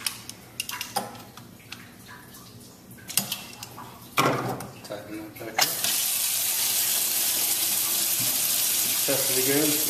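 Water bursts and sputters through the supply lines of a kitchen faucet, a Hansgrohe Talis S2 Variarc mixer, after a few clunks and taps of handling, then settles into a steady, rushing stream into the sink.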